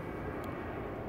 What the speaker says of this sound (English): unfortunately, I have the plane going by